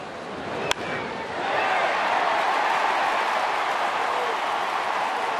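A baseball stadium crowd in Detroit roars and cheers for Miguel Cabrera after his double against Cleveland, with a sharp crack early on and then a broad, sustained roar that swells and holds. A commentator's voice is faintly present.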